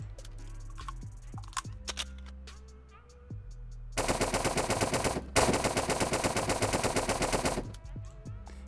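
Bursts of rapid automatic AUG rifle fire in a modded Unturned video game, loud and dense, one long volley briefly interrupted, preceded by scattered lighter clicks and handling sounds.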